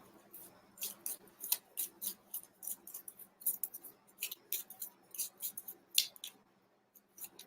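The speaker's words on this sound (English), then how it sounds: "I'm trying to shuffle this deck of cards" A deck of playing cards being shuffled by hand, a run of quick crisp riffling bursts and snaps in an irregular rhythm, close and fairly quiet in an otherwise still room.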